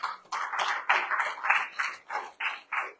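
A church congregation claps and acclaims the Lord during a Sunday service, with rhythmic bursts of clapping and cheering voices in an even, repeating pulse.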